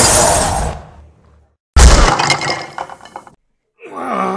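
A glass roof over a great hall shatters as two people fall onto it, with loud crashing bursts of breaking glass separated by brief silences.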